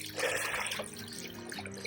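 Water trickling from a small water feature into a garden bird bath makes a steady, soft splash and dribble that holds at an even level throughout. The sound is fairly close and no one speaks.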